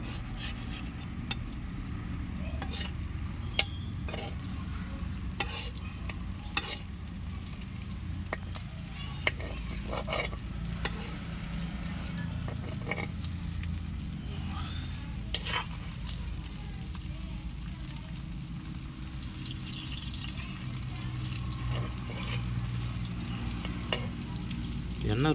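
Fish pieces frying in hot oil in a pan while cooking fish gravy, a steady close sizzle with scattered crackles and pops running throughout, no talking.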